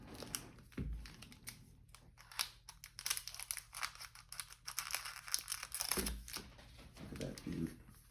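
1982 Topps football rack packs are cut open with crisp snips and crinkling wrapper rustles, steady close-up handling noise throughout at low level.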